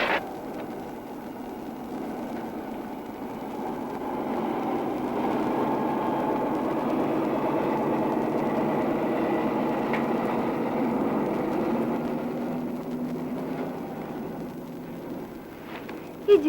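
A steady low train engine rumble drones throughout, idling at a station, with faint voices in the background.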